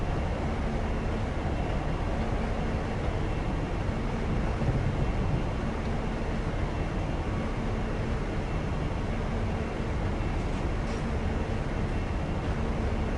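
A train in the Train Simulator game rolls along the West Coast Mainline with a steady, dense rumble and hiss that stays constant and unbroken, with no voices.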